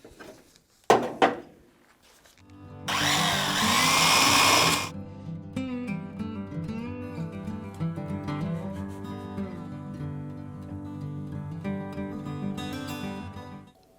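A power tool strips paint from the bracket area of a Porsche 911 for a weld-in strut brace: a couple of sharp knocks, then a loud, harsh burst of grinding lasting a couple of seconds, followed by a long, ringing whine as the tool spins down.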